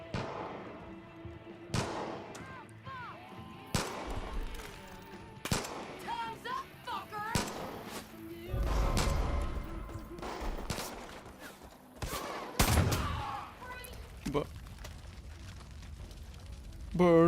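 Video game gunshots ring out as sharp, loud single cracks and short bursts at irregular intervals, with heavier thumps in between and people talking throughout.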